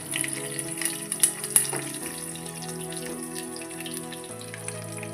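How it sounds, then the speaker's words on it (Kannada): Raw mango pieces drop into hot oil in a pan with garlic and curry leaves, giving a steady close sizzle with a few sharp spits early on, no voices over it. "ಮಾವಿನಕಾಯಿ ಹೋಳು ಹಾಕ್ತೀನಿ"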